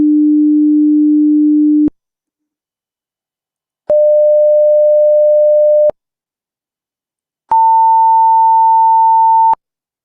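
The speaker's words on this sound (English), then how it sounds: "I'm just playing the first component, 300 hertz component." A pure 300 hertz sine tone plays steadily for about two seconds, followed by two more steady pure tones, each higher in pitch, separated by silences.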